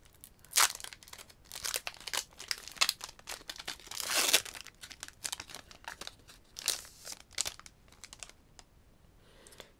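A trading card booster pack is torn open and its foil wrapper crinkles, in sharp bursts of tearing and rustling close by, loudest near the middle and then trailing off into lighter crackles.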